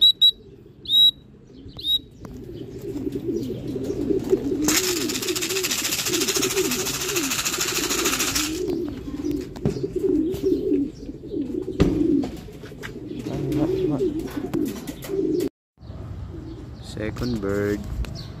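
Racing pigeons coo continuously at a club training release, a low burbling chorus with occasional chirps, a loud rushing burst partway through and faint voices in the background.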